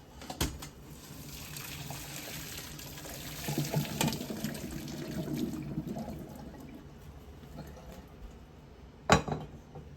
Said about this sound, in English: So I'm just going to pour it into a colander.